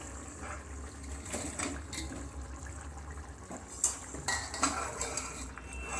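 Manchurian balls being mixed into sauce in a pan, with a spoon scraping and clinking against the metal in irregular strokes, close and moderately quiet, the clatter growing sharper toward the end.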